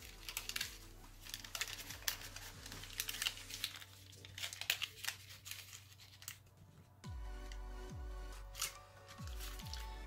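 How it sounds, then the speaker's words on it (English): Paper being folded and creased for an origami Santa crane, close crinkles, rustles and sharp creasing sounds, busy at first and then softer, with a low hum underneath. "let's open this up and take this edge and fold it to here"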